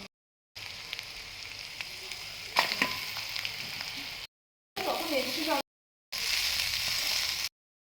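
Pasta being stirred in a miniature pan on a mini gas stove, with steady frying sizzle and light scraping stirs, broken by short gaps of silence.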